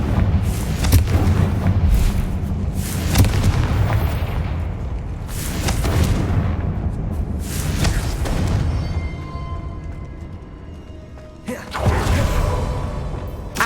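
Fiery blasting-curse explosions from Hogwarts Legacy, a run of deep booms and whooshing bursts that roll on for several seconds, with a final heavy blast near the end under game music and effects.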